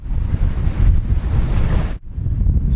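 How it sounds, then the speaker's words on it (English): Strong squall wind buffets a sailboat at sea under a full headsail, roaring steadily over breaking waves with a brief lull near the end before the gusting resumes. "Yeah, that wind speed's picking up."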